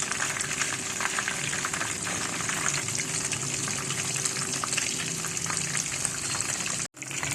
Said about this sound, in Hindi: ये देखिए अल्हम्दुलिल्लाह बहुत शानदार फ्राई हो रहे हैं।